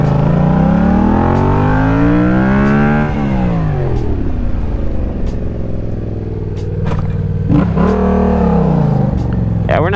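A Yamaha FZ-07 motorcycle ridden in circles and stoppies on a worn tire, its engine revving loud and close, rising then falling in pitch, dipping, and climbing again with sharp throttle blips.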